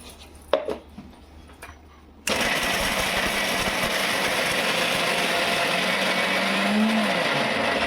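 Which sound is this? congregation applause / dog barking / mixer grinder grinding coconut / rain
mixer grinder grinding coconut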